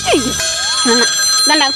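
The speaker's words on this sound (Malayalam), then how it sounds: "ഫോൺ അടിക്കുന്നു" A telephone rings steadily throughout during a Malayalam stage comedy show skit, its bright electronic tone continuous while voices talk over it.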